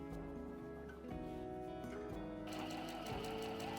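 A sewing machine stitches strap fabric for a shoulder bag, its needle running in a fast, steady, close mechanical rhythm that speeds up slightly partway through, with no talking over it.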